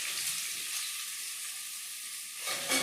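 Chopped onion sizzles in hot oil with a steady, bright hiss that carries on alone and flares slightly near the end.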